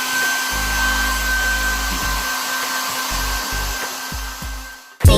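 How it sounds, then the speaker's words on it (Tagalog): Hair dryer blowing steadily as it dries hair, a loud continuous whooshing drone with its low hum cutting in and out as the airflow shifts, ending in a sharp handling knock. "papatuyuin ko lang yung hair ko"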